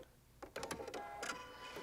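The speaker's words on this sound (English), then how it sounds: "It threads the needle by itself." Automatic needle threader on a Pfaff Creative Icon sewing machine working by itself, a short run of quiet mechanical clicks and whirring motor bursts, close and fairly faint.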